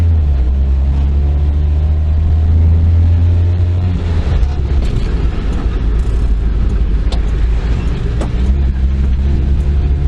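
Honda Acty kei truck on a shakedown drive after oil leak work, its engine droning loud and low inside the cab, with steady road rumble and slight swells as it pulls along.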